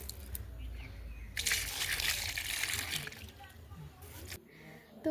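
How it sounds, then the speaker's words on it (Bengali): Rooftop plants being watered little by little, a broad spray of water splashing onto leaves and soil for a few seconds, moderately loud and close, with the spatter tailing off toward the end. "ছাদে এসে গাছগুলোতে একটু একটু করে জল দিয়ে দিলাম।"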